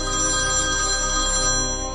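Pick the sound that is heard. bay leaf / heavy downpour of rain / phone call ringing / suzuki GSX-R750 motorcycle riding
phone call ringing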